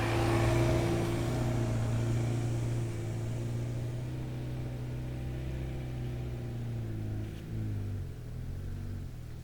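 2025 Ford Maverick Tremor pickup heard from inside on the road, a steady low engine drone with a constant hum and road noise that eases slightly after a few seconds, with no talking.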